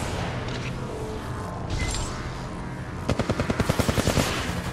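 Rapid automatic gunfire in the mobile battle royale Apex Legends Mobile, a fast even burst of a dozen or so shots in the last two seconds after a stretch of busy background game noise.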